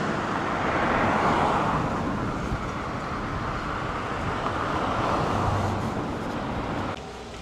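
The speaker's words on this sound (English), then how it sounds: "excuse the traffic noise." Road traffic passing outdoors on a warm day, a broad steady rushing roar of vehicles that swells slightly early on and then drops off abruptly near the end.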